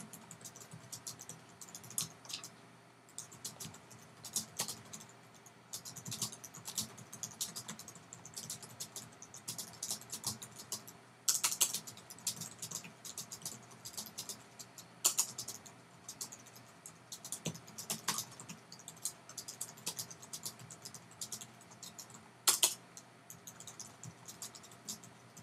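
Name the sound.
typing a sentence on a computer keyboard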